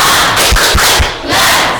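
An Indonesian school class does a rhythmic spirit clap cheer, loud and close, with a few sharp synchronized claps and shouted voices joining in a short burst.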